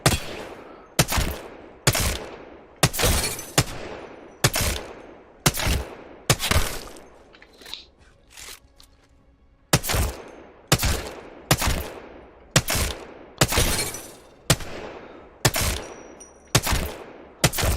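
Single gunshots ring out in Apex Legends aim practice, spaced about a second apart in pairs with a short lull midway, each a sharp crack with a decaying tail.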